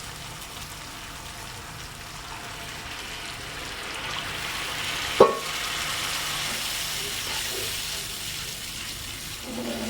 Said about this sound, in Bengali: এবার দিয়ে দিব পানি